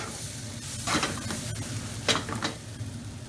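Thai chicken fried rice sizzles in a hot pan, a low crackling fry with bursts of scraping and stirring as the rice is tossed, the utensil clatters coming in a few quick strokes.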